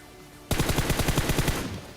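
Automatic gunfire in the PUBG video game, one rapid burst of about a dozen loud close shots in even rhythm lasting over a second, after a quiet start.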